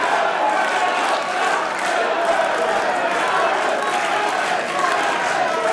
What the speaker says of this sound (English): Interesting to hear this crowd response